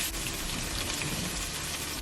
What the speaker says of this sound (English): That sizzling is so satisfying.